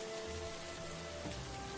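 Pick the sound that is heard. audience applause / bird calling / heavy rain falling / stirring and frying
heavy rain falling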